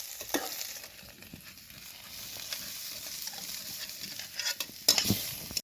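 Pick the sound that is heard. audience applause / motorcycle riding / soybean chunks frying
soybean chunks frying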